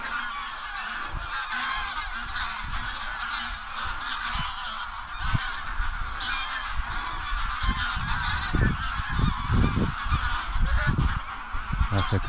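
Canada geese honking loudly and repeatedly during a goose hunt, a dense overlapping chorus of calls close by with low thumps and rustles underneath, growing busier toward the end.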